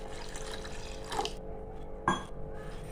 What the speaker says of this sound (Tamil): இன்னும் ஒரு 200 ml தண்ணி சேர்த்துக்கலாங்க.